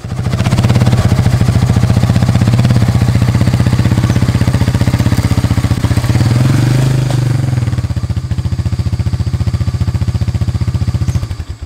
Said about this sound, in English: So I'm going to get this ATV down in this gully back here behind me.